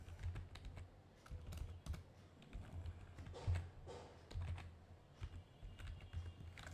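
Someone types quickly on a computer keyboard while writing in an MS Word document. Quiet, close keystrokes come in irregular bursts with short pauses between them, and no one speaks.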